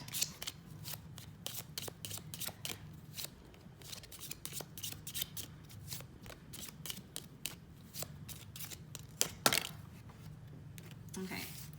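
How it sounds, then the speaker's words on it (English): Tarot cards shuffled and drawn during a card reading, a long run of quick papery riffles and flicks, close and crisp, with a soft voice talking faintly underneath. "So let's go ahead and pull a month card"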